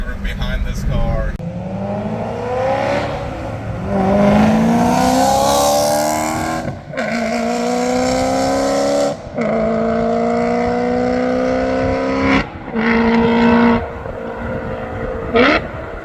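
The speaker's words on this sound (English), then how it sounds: "this is a stock exhaust just with X pipes and no cats" BMW E90 M3 with a 6-speed manual, running a stock exhaust fitted with X-pipes and no catalytic converters, revs loudly through several rising pulls with short gaps for gear changes, its tone climbing each time, while people talk over the engine.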